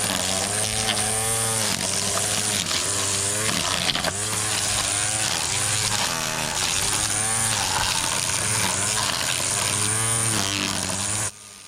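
A cheap battery-powered string trimmer whines steadily as it cuts around garden flowers, a close, buzzing motor drone with slight pitch wavers, continuous and without talk.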